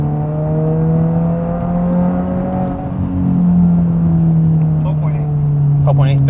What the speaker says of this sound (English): I'm gonna do a third gear pull again,